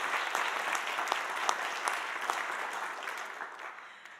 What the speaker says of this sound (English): I think we need to give all of us a round of applause for being here.